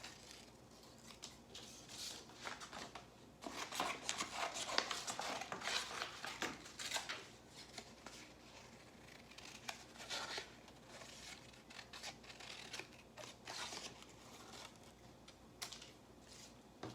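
Paper shapes being cut out with scissors: faint, close, irregular snips and crisp clicks in quick bursts against a quiet room.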